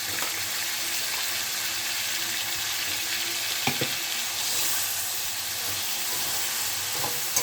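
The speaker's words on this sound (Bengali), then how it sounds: "এবার দিয়ে দেবো এর মধ্যে আদা, কাঁচা লঙ্কা আর ধনে পাতা বাটা।" Ginger, green chilli and coriander leaf paste fries with paneer and lightly steamed peas in a hot pan, giving a continuous close sizzle with occasional stirring scrapes and clicks and no voices.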